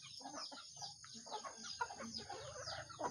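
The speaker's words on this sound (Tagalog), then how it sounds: "Crossbreed nga pala ito guys sa Rhode Island Red." A Rhode Island Red crossbreed chicken clucks in a series of short, close, fairly quiet calls on a farm, with faint background birds and no talk.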